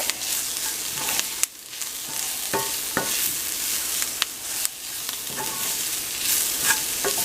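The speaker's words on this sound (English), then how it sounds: "this is like a real common technique where you saute your spices and it elevates the flavors of the spices" Spices sauté in a pot for meatball soup, a loud close sizzle broken by frequent scraping clicks of a spoon stirring, with no speech.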